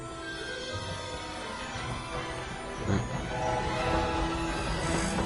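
Train arriving at a station in the video game Hogwarts Legacy, a steady rumbling rail noise with a horn-like tonal layer, growing louder near the end, with no talk over it.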